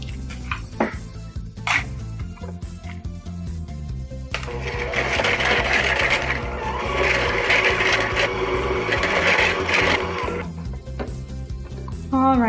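An electric mixer beats vanilla and three eggs into creamed butter and brown sugar for Oreo cookie bars, a close, continuous whirring with clattering against the bowl that grows louder and denser partway through, with no talk.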